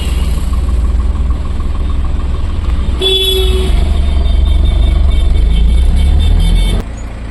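Stuck in a traffic jam on the road from Anjuna, Goa to Panvel, a car horn honks loudly for under a second over a constant rumble of idling engines, followed by a busy wash of traffic noise.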